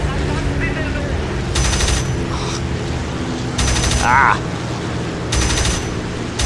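Aircraft cannon fire in the flight combat game Birds of Steel, from a Ta-152, comes in three short rattling bursts over steady engine drone, with a man's brief exclamation in between.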